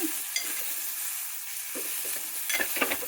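Ivy gourd (dondakaya) frying in a pan for dondakaya pappu, a steady close hiss with a few brief stirring scrapes and crackles near the end.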